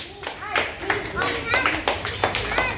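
A group claps for a child at martial arts training, a run of brisk rhythmic handclaps close by while a voice talks over them.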